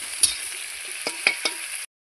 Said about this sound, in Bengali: দেখতে পাচ্ছি জিরা তেজপাতা পেঁয়াজগুলো ভালো করে ভেজে নিব